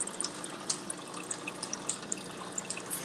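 Water trickles steadily during a home aquarium water change, with small drips and plinks landing irregularly over the continuous flow, close and moderately quiet.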